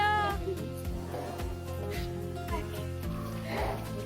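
A kitten meows repeatedly during a family walk, clear cries over a rhythmic background beat.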